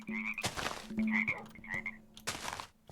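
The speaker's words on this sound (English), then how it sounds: "those tree frogs are really loud" Tree frogs in the Minecraft Zoo and Wild Animal (ZAWA) mod croak in repeated bursts, a steady low tonal pulse under higher raspy trills, loud and continuous with brief gaps, no talking.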